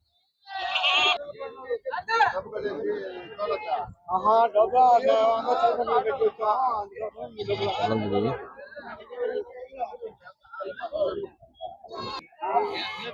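Male goats bleating at the Gudur sheep and goat market, nasal calls that rise now and then amid constant nearby chatter of people talking over the animals.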